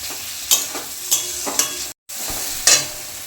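Minced mutton being stirred and fried in a pan, with a steady sizzle under repeated scraping spatula strokes about every half second, a brief dropout partway through, close and clear with no talking.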